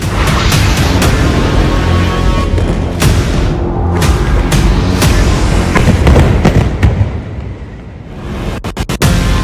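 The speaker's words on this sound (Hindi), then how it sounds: "2000 धमाके।" Loud explosions from airstrike footage of an Israeli strike on Houthi targets boom and crackle densely, overlapping in a continuous roar, with a burst of sharp cracks near the end.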